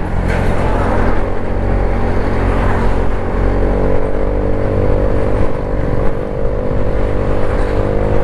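Engine of a truck driving at about 60 with a hesitating throttle and a suspected dirty throttle body, a loud steady droning hum from inside the cab, with slight unevenness but no clear popping bursts.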